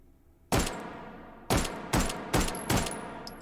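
A Mauser carbine fired in the H3VR game: five loud, sharp shots spaced roughly half a second to a second apart, each with a short decaying tail, no voices.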